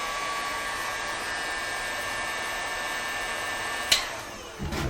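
A heat gun blows hot air to soften glue while installing fairy lights on a trim router, a steady close whooshing hiss that cuts off with a click near the end.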